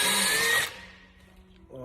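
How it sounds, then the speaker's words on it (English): A power drill whirs loudly for about half a second while boring a pocket hole in wood with a pocket hole jig, then cuts out and spins down, followed by quiet and a voice starting to speak. "Then you just put your drill bit down into this hole."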